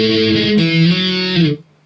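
Distorted electric guitar plays the main riff of a song, a loud, sustained run of held notes lasting under two seconds before cutting off abruptly.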